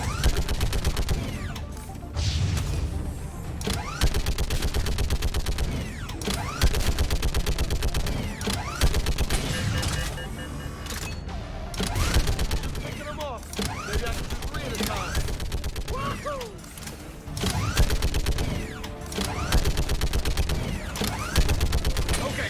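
Sustained rapid machine-gun fire from a turret in a sci-fi shooter game, with dense bursts of shots and mechanical clatter over a battle din, continuing through most of the stretch with short pauses.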